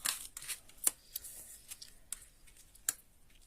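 Tarot cards are shuffled and drawn by hand in a quiet room, a faint series of soft riffling flicks and crisp card snaps at irregular intervals, with no speech.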